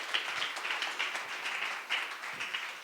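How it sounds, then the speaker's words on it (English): Audience at a youth workshop clapping for someone speaker, a steady, moderately loud wash of many hands with small irregular swells, no voices standing out. "Clap for her once more"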